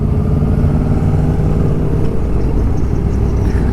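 A black Yamaha R1 1000cc sport motorcycle with a Yokohama aftermarket exhaust revving hard at high RPM on the road, a loud continuous engine roar mixed with wind rush and no breaks.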